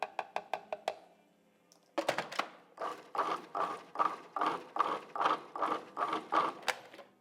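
A food processor pulses falafel mix with lemon zest: a quick run of short bursts, a brief pause, then a steady series of rhythmic, whirring pulses, close and fairly quiet.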